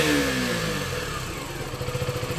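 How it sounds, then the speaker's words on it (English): KTM Duke 200 four-stroke single-cylinder motorcycle revving close by, a loud buzzing rasp that falls back and then pulses in quick throttle blips. "It has some special sound. Some special tone. It sounds like two-stroke, but it is four-stroke bike."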